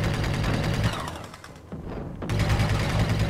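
Rapid weapon fire from a spaceship in the space combat game Dead Star, a dense, loud stream of shots that briefly drops away midway, then resumes at full strength.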